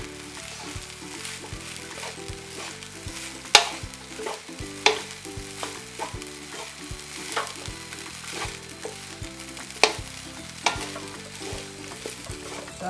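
Carrots, egg and chicken sizzle and get stirred in a hot pan for Thai spicy chicken fried rice, a steady frying hiss broken by sharp spatula clacks, under quiet background music with no talking.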